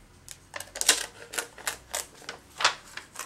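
Scissors snip through thin acetate sheet, cutting around heat-embossed foliage pieces in a paper-craft setting: a series of short, crisp clicks and slices spaced irregularly, close and fairly quiet, with no talking.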